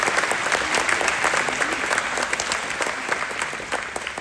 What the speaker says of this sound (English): Let's give this group of outstanding leaders a round of applause.